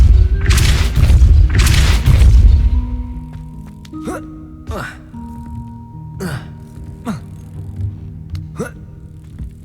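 Spell casting in Hogwarts Legacy: two heavy booming blasts at the start, followed by a run of sharp, short magical zaps and whooshes spaced a second or so apart over a low ambient hum.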